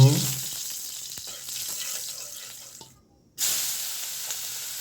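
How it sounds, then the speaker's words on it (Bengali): Small tangra fish frying in oil, a hissing sizzle that fades gradually, cuts out briefly, then resumes at full strength. "মাছ একটু বেজে নিব"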